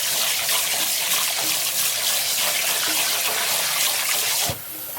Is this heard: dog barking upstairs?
no